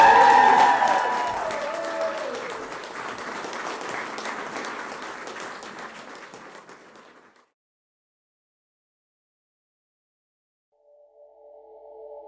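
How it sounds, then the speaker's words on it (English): Wedding guests cheer and clap in a lively burst over a rising whoop, the applause fading out over several seconds into silence before a soft tone returns. "Give them a cheer again."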